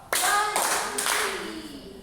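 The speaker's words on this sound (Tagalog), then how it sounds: "Bigyan ninyo ang inyong mga sarili ng tatlong palakpak." A classroom of children claps three times on cue in a Filipino lesson, three broad, loud bursts of many hands close together, followed by a brief murmur of young voices.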